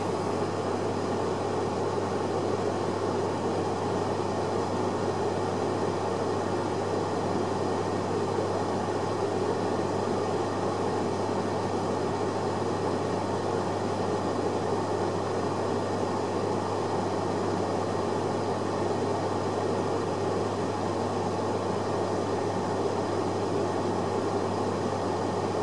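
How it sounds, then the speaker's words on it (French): A Taurus air conditioner's fan runs at minimum speed, producing a steady, unbroken whoosh with a low hum beneath it, constant and moderately quiet for the whole stretch with no voices. "c'est uniquement le bruit de la ventilation."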